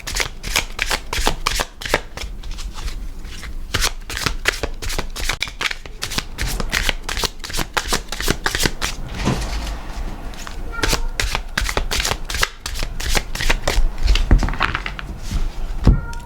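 Tarot cards being shuffled by hand for a reading, a steady run of dense riffling and slapping card bursts close up, continuing without pause and with no talking over it.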